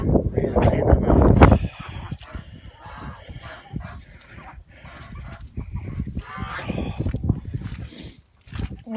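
Geese honking near an open goose pen on a wet, windy farm day, a loud burst of honks at first followed by repeated calls and splashy background noise, with a voice talking at times.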